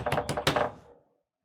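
Rapid knocking on a door in a tense crime drama scene, a quick burst of several close raps followed by a second flurry that trails off into silence.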